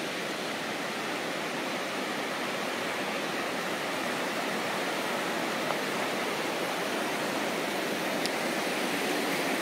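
River flowing beside a misty riverside campsite, a constant broadband rush of moving water, close and steady with no talk over it.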